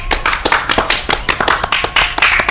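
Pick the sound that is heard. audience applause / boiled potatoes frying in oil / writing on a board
audience applause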